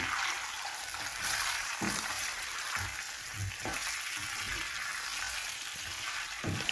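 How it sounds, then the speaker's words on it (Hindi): Potato slices with chili, salt and turmeric sizzle steadily in hot oil, a continuous bright hiss broken by occasional soft stirring knocks, with no voices. "बस इनको 2 से 3 मिनट के लिए मज़ीद हम इधर फ्राई करेंगे।"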